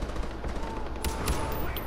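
Gunfire in Far Cry 4 cracks out in two sharp, loud shots close together over a steady hum of game ambience.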